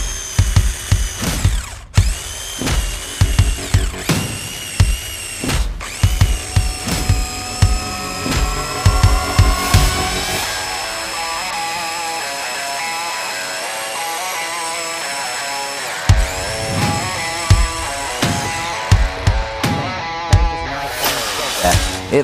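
A DeWalt power saw bites through wood with repeated short bursts, then one long steady high whine of cutting, followed by more intermittent buzzing bursts, loud and close with no talking.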